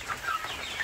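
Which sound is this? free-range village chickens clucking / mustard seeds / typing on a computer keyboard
free-range village chickens clucking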